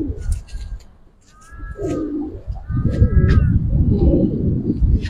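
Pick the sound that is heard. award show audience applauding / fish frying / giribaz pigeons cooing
giribaz pigeons cooing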